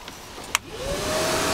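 A 1600-watt Hoover wet and dry vacuum cleaner, used for workshop dust extraction, spins up after a click and settles into a steady, loud whine that holds near the microphone.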